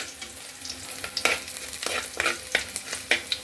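Ingredients for a Thiruvananthapuram-style inji (ginger) curry for an Onam sadya sauté in a pan, sizzling loudly up close while a spoon stirs in quick rhythmic scrapes, with no talking.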